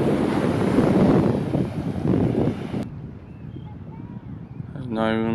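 Waves wash in at a beach inlet near Fort Fisher under heavy wind buffeting the microphone, a loud rushing surf that eases halfway through before a brief voice cuts in at the end.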